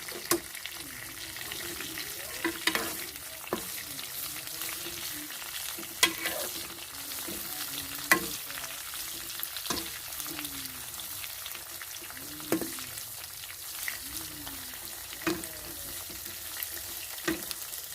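Aloe vera and cloves are stirred in a pan, a steady soft scraping with a low sizzle running underneath and occasional sharper knocks of the spoon against the pan, close and moderately quiet throughout.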